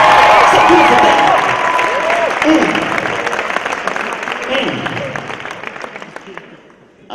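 A large crowd at a campus event cheers and applauds loudly and continuously, a dense wash of clapping and shouting that gradually fades toward the end.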